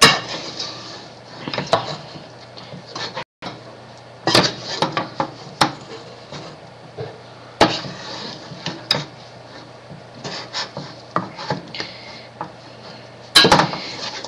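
Homemade playdough being stirred in a bowl, with irregular scraping knocks and clinks of a utensil against the dish, close and sporadic, pausing briefly between bursts of mixing.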